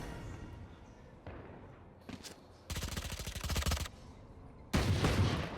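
Valorant gunfire from Sheriff pistols and budget rifles, with sharp single shots and a rapid burst of automatic fire heard faintly in the background of an esports match, amid casting chatter.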